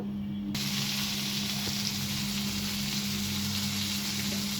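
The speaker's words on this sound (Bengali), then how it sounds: "মাছটা ভেজে নিচ্ছি এক পাশ হয়ে গেলে আর এক পাশ দেবো" A thick fish frying in hot oil in a frying pan, one side cooking first, giving a steady, even sizzle that runs unbroken and close throughout, with no talk.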